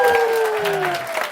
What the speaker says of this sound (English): It's my birthday, please applause.